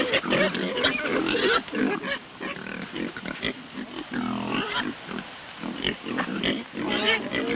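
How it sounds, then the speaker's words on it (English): Feral pigs forage along a waterway with soft, close grunts and snuffling oinks in irregular bursts, alongside faint rustling and no talk. "The feral pigs forage with careful thoroughness along waterways."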